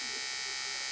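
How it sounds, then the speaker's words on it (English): Frequency doubler output played through an ultrasonic speaker: a steady harsh electronic buzz with a dense high hiss, continuous and unchanging for under a second. "What you're hearing here is just the output through the ultrasonic speaker at the front."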